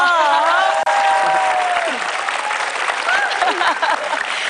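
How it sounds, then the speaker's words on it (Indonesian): Audience applause at a motivational seminar runs continuously and fairly loud, with a voice talking over the clapping at the start and again later. "Nggak berhenti-berhenti nih tepuk tangan."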